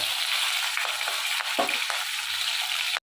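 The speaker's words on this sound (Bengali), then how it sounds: "তেলটা গরম হয়ে গেছে এখানে আমি মাছটা ভেজে নেব" A fish head fries in hot oil with a loud, continuous crackling sizzle, a few brief bursts of spatter, and a sharp cutoff near the end.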